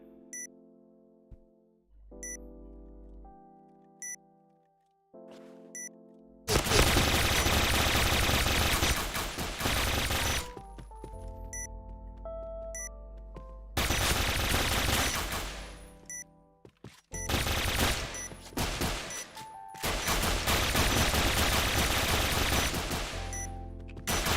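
Gunfire from a PUBG weapon in the shooter Point Blank: long loud automatic bursts and repeated shot volleys separated by quiet gaps with game beeps and tones, close and dominant, with no talking.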